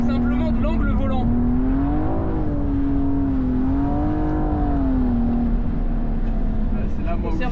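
A car engine holds a steady, loud drone that rises and dips in pitch while the driver cuts a corner in a brake-initiated drift, with someone speaking over it throughout.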